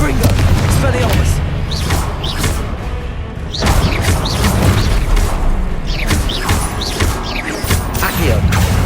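A Confringo fire spell blasts repeatedly in a Hogwarts Legacy duel, loud booming bursts and swishes piling into a dense, continuous roar of combat effects with a brief dip midway.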